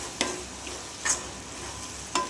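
A spoon stirs spice masala into an egg and tomato curry over a soft, steady sizzle, with three distinct scraping strokes against the pan spaced about a second apart.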